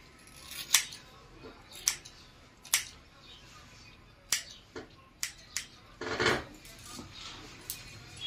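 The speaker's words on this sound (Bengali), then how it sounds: "সেই অনুযায়ী আমি চুলটা কেটে দিচ্ছি।" Scissors snip through hair during a layered haircut, sharp metallic clicks coming in irregular bursts close to the mic, with a longer flurry of rapid cuts near the end.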